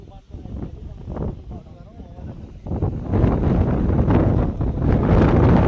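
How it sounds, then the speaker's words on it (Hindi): Strong gusts of wind buffeting an outdoor cricket game, rumbling and rising in force over the second half, with someone speaking throughout under the blustery roar. "देख रहे हो कितनी तेज हवा चल रही है भैया।"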